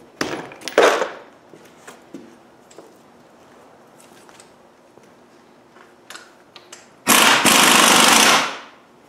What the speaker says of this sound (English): So we're just going to spin it up with a gun.